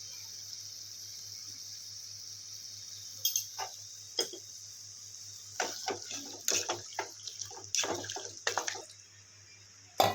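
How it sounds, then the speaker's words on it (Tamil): Water poured into a pot of mutton for chukka gravy, heard as a run of short splashing, trickling bursts against a steady hum, moderately close and alone. "மட்டன் வேகிற அளவுக்கு மட்டும் தண்ணி ஊற்றிக்கலாங்க."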